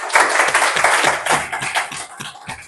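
Audience applause breaks out after a call to cheer, a dense run of claps that rises and falls in bursts for about three seconds, fairly close and without talk.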